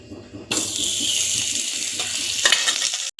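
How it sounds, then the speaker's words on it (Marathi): Ghee hits a hot pot and breaks into a loud, steady sizzle that starts abruptly and holds for a few seconds before cutting off, with no talk over it. "त्यासाठी टोप गरम करत ठेवलेला आहे, तो चांगला गरम झाला। आता तूप टाकूया।"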